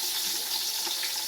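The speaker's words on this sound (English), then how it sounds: "So I'm frying the onions." Onions frying in a pan over an outdoor cooking setup, giving a steady, close hiss and sizzle that runs without a break and with no talking.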